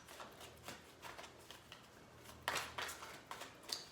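A deck of tarot cards is shuffled by hand in quick riffling bursts, close and soft, repeating several times with short pauses between.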